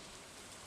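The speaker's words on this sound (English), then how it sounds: "But we got ourselves a rainy day." Steady rain falls in the farming video game Stardew Valley, a dense continuous patter with no talk.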